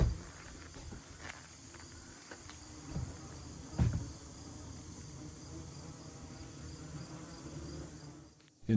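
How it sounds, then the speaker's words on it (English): Swarms of yellowjacket wasps buzz around a nest in a porch ceiling near a doorway, a dense continuous drone with a few louder close passes and light knocks. "Way too many wasps."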